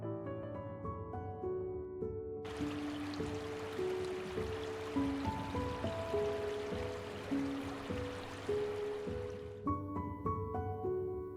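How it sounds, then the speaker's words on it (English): Waterfalls in Yosemite Valley stream down from hundreds of meters above, a steady broad rush of falling water with music playing over it throughout. "The spectacular waterfalls stream down from hundreds of meters above"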